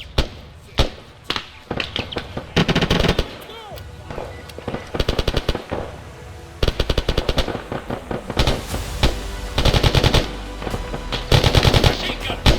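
Machine gun fire in the video game Arma 3 during a battle, loud sustained bursts and rattling rapid volleys with heavy booming impacts, dense and continuous throughout.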